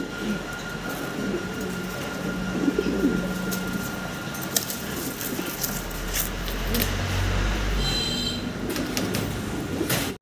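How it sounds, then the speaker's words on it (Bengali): Andalusian-coloured exhibition pigeons coo in low, murmuring bursts amid a busy, noisy background hum, with no one speaking. "অ্যান্ডালুজিয়ান কালারের ভিতরে এক্সিবিশন কবুতর"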